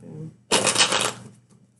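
Tarot cards shuffled in a quick riffle, a dense papery rattle lasting under a second and tapering off, heard close with faint voice just before.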